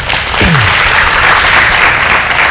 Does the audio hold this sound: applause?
yes